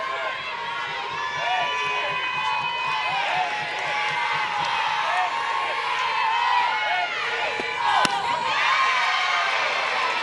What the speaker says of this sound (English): You can hear their home crowd a little bit more rowdy, especially this 3-1 count.